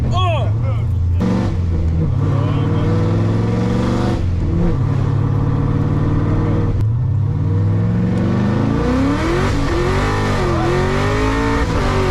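An IROC Camaro muscle car engine revving and droning loudly, with rising and falling pitch sweeps as it accelerates, while people talk over it.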